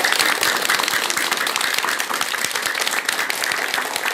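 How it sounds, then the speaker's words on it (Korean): Audience applause during a Buddhist dharma talk, thanking monks across the country: a dense, steady crowd clapping that fills the room evenly throughout, with no talking over it. "큰 박수 한번 올리시기 바랍니다"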